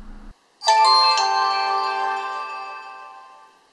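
An HTC One phone plays its startup chime through loud front speakers, a bright layered electronic tone that strikes suddenly after a short low hum and rings out, slowly fading over about three seconds, close and loud.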